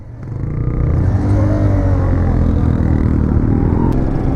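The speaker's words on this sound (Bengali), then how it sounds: "তোর এটার 125 সিসি হলো, এর যে সাউন্ডটা আছে জাস্ট ও পি লেভেলের একদম" A 125 cc motorcycle engine revs loud and close on a group ride, a steady throaty drone that swells over the first second and then holds, with no voices heard.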